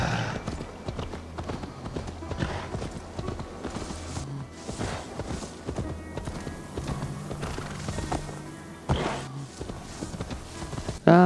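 Horse hooves clip-clop steadily in a farming video game, a regular walking rhythm of hoof knocks, with occasional neighs over light background game sound.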